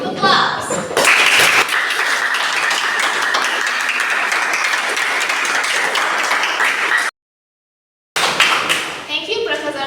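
An audience at a ceremony claps, a dense and loud applause that holds for several seconds, then cuts to silence before voices return.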